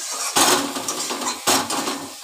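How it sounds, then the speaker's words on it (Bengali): Metal spoon scraping and clattering against a pan as spice masala and fried potatoes are stirred and sautéed for an egg curry, with two louder bursts of scraping over a steady background sizzle. "এবার ভালো করে একটু কষিয়ে নেব।"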